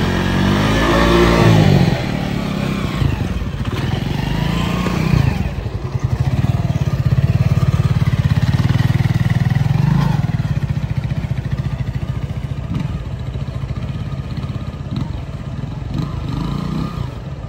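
A motorcycle pushes through a flooded road, its engine rising in a few strained revs, then holding a long, loud, labouring drone that slowly fades.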